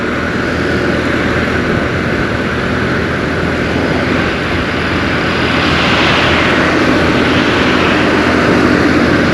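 Honda CD 70 motorcycle, a 2022 model in engine break-in, ridden at a relaxed pace below about 50: a steady, continuous engine drone mixed with broadband road and wind rush, close and loud throughout, with no talking.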